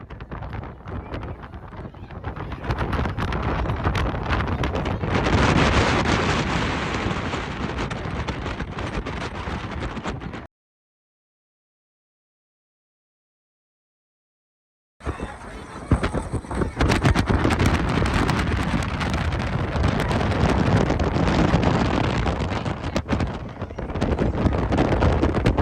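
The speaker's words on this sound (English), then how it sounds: "Now you'll see just how windy it is on the bridge." Strong wind buffets the microphone on the Kinzua Bridge Skywalk, a heavy, rumbling roar with gusty bursts that cuts out to silence for a few seconds midway before blasting back just as loud.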